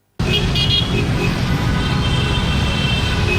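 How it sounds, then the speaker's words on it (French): Dense heavy road traffic roars loud and continuous, with car horns honking in short overlapping toots early on beneath the steady rumble. "les usagers de la route se pressent sur les autres voies de descente dans un tintamarre de klaxons"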